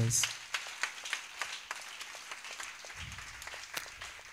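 A church congregation claps in a dense, sustained burst of applause, with voices mixed in over the steady patter.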